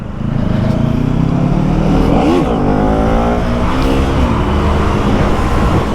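A KTM Duke 250 motorcycle rides through city traffic, its single-cylinder engine droning loud and close with rising and falling revs, rushing wind noise throughout, and no talking.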